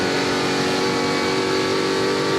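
Stock car number 18 roaring past at the 2008 Curitiba race, a loud continuous engine howl at high revs filling the whole moment, with no talk over it.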